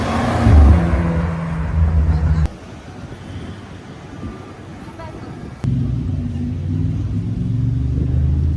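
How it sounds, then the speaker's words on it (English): On a Beverly Hills street, a Mercedes SLR McLaren supercar gives a deep, close engine rumble with a rev near the start. A quieter stretch of street noise with people talking sits between two abrupt cuts. "we have an SLR McLaren right here"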